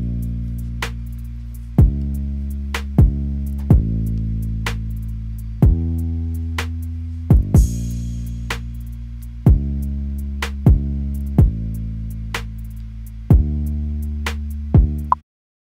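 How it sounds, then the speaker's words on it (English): A drum and bass guitar groove: punchy kick hits on a steady beat with deep sustained bass notes changing pitch, crisp hi-hat ticks above. "So the drums and bass together sound like this."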